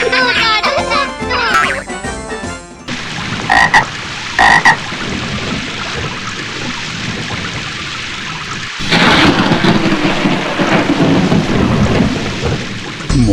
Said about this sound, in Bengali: আমার ঠিক বোধগম্য হয় না বিদ্যুৎ ঝলকানির পরই কেন বজ্রপাত হয়